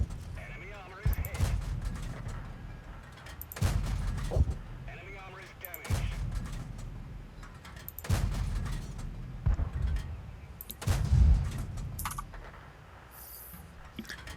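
Heavy tank cannon shots from World of Tanks, played in an AT-2 tank destroyer, boom at intervals of a second or two, several deep blasts spaced through, with faint clicking between them.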